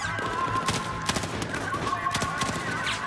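Gunfire in Battlefield 4: a close, rapid series of sharp shots in uneven bursts, loud over continuous battle noise, with a voice talking at the same time.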